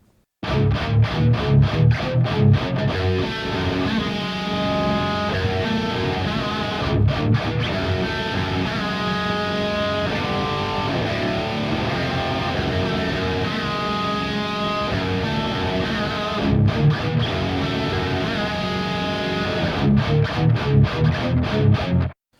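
Distorted crunch electric guitar through an EVH 5150 III S EL34 100-watt amp on channel 3, playing loud, sustained riffs and chords with brief choppy stops, no voice over it.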